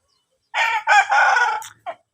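A fighting rooster crows loudly and close by, one long drawn-out call followed by a brief clucking note.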